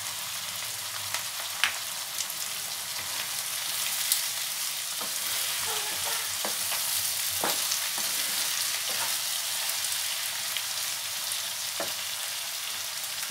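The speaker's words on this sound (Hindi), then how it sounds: "उसमें हम टमाटर को गलने तक पकाते हैं।" Chopped tomatoes with salt sizzle steadily in a pan for restaurant-style veg biryani, a constant close hiss broken by a few sharp utensil clicks and scrapes.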